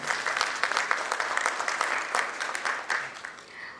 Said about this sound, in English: Can we begin this event with a huge round of applause, everyone?